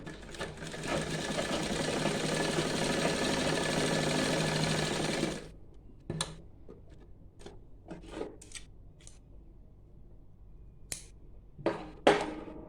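A sewing machine stitches a thin strip for a salwar pocket, a close, loud continuous whir for about five seconds, then stops and gives way to scattered soft clicks and handling noises.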